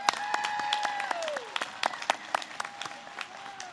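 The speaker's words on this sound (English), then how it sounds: "Let's give our graduates one more round of applause." Applause for nursing graduates at a spring university pinning ceremony: scattered sharp claps ring out over a sustained tonal background, thinning into separate individual claps toward the end.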